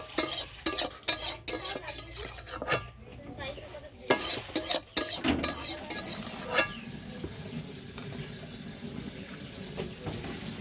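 Cooked dal is beaten and mashed in a pot with quick, loud, clattering whisk strokes in bursts, which then ease into a softer, steady churning swish; no one speaks.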